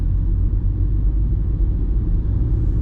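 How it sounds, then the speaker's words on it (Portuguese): A Honda City Touring Hatch accelerates under its driver-assist system, heard from inside as a steady low road and engine rumble, loud and continuous with no talking. "Agora ele vai dar uma aceleradinha, vamos ver se ele vai ser forte ou não"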